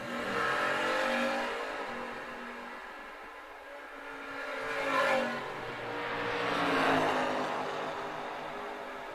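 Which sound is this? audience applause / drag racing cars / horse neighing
drag racing cars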